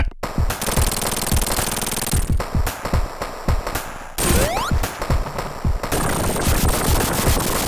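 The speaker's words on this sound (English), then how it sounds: "and he throws a bomb" In Sonic 3 on the Sega Genesis, a bomb thrown by Knuckles explodes in a string of harsh, noisy crackling bursts that cut in and out over the game's music and effects.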